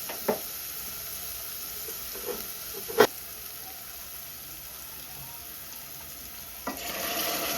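Boiled mutton tipped into a hot pan for Telugu mutton pulusu, giving a steady low frying sizzle with a few soft clinks and one sharper knock near the middle, rising to a brighter hiss at the end.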